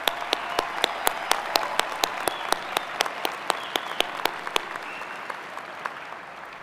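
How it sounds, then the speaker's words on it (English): Graduation convocation audience for the SUU College of Health Sciences applauds the faculty: a crisp, fairly sparse round of claps with a few loud individual ones standing out, tapering off toward the end. "join me with a nice round of applause for our esteemed"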